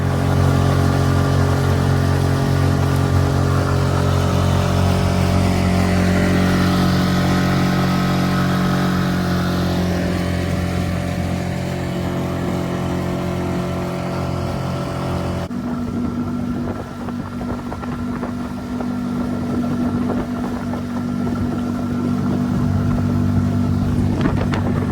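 A skiff's outboard motor runs steadily through a test run on a boat lengthened by seven feet, a loud continuous drone with strong low hum, wind buffeting the microphone, the pitch shifting partway as throttle eases.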